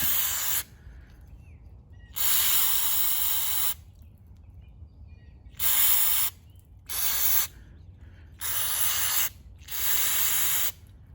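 Mass airflow sensor cleaner sprayed onto a Ford Explorer's mass airflow sensor in five or six loud, close hissing bursts of one to two seconds each, separated by short quiet pauses.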